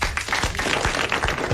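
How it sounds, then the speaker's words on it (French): Short burst of audience applause in a television studio, a dense patter of many hands clapping at moderate level, with a faint voice underneath. "vous l'applaudissez"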